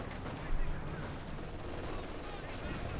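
Sustained gunfire and artillery rattle across a Company of Heroes 2 battlefield as units fire on field guns, a dense continuous wash of shots with talk over it.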